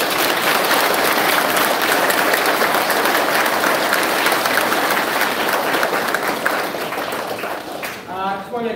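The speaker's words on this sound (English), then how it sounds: "So can we just give our teaching team a massive round of applause?" Audience applause fills a school prizegiving hall, dense steady clapping from a large crowd that carries on loudly and starts to thin near the end, where a voice begins to speak.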